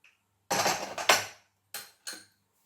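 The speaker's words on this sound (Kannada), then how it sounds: "ಕುಕ್ಕರ್ ಈಗ ತಂಪಾಗಿದೆ, ತೆಗೆದು ನೋಡೋಣ ನಾವು." A pressure cooker of tomato dal is opened after cooling, giving a loud metallic clatter and scrape of the lid, then two shorter clanks as it is set aside.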